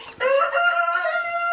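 A rooster crows once, loud and close, its drawn-out call ringing with a clear harmonic tone after a brief cluck from the farmyard flock.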